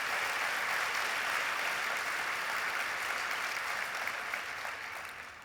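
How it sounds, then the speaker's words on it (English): An audience at an alumni hall of fame ceremony claps steadily, a full even wash of applause that holds for several seconds before tapering off near the end, fairly soft overall. "you guys deserve a round of applause for that"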